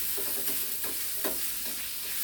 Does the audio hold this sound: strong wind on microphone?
no